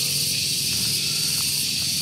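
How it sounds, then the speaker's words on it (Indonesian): Cicadas (tonggeret) buzz from bamboo trees on a hillside, a continuous high, dense shrill drone that stays steady and loud throughout with no break. "Ada bunyi-bunyian teman-teman dari pohon bambu, tonggeret ya."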